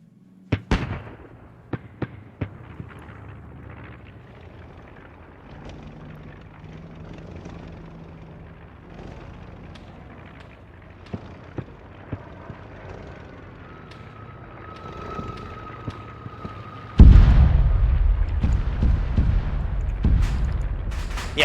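Arma 3 World War II combat with aircraft overhead: distant pops of gunfire over a droning engine rumble, scattered sharp cracks, then a heavy, sustained blast of explosions and firing near the end.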